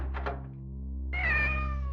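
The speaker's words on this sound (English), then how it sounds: "Don't panic, it's a cat." A cat meows in the visual novel game Otogirisou. One drawn-out, clear meow rises over a low, steady droning background, after a couple of soft knocking sounds.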